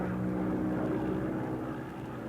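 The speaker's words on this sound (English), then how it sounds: "one of our aircraft, an Avenger, returns with a missing left wheel and makes a safe landing" A WWII Avenger aircraft returns to a carrier with a missing left wheel and lands, a steady loud propeller-engine drone throughout.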